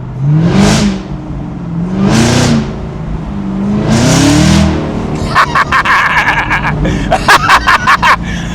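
A Chevrolet Camaro ZL1 engine revs hard three times, each roar rising and falling, then settles into a rough, burbling idle with crackles.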